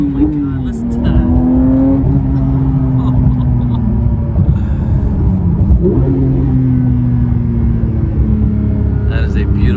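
A Porsche 911 GT3 engine drones and revs loudly and steadily from close by, pitch rising and dipping with the throttle, with voices over it.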